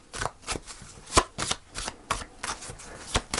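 Tarot cards shuffled and handled on a table during a reading: a run of crisp riffling and slapping bursts in uneven rhythm, close and fairly loud, with no talking.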